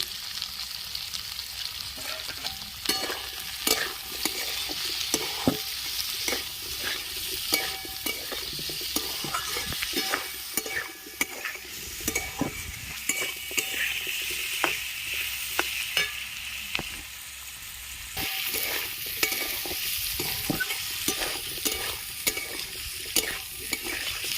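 Chopped onion and potato frying in a pan with turmeric and salt for a posto dish, a continuous close sizzle with frequent rhythmic scraping and clacking of a spatula stirring against the pan, no talking.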